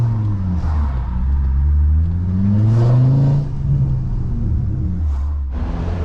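A Ford Mondeo 2.5 with a loud exhaust idles with a deep burble, then is blipped, the engine revving up and falling back in rising and falling sweeps, close and prominent with no talking.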